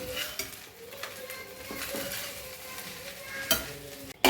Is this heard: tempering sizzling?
yes